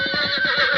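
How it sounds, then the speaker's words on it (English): A horse lets out a single short, loud, quavering whinny close by, with nothing else around it. "I know that horse."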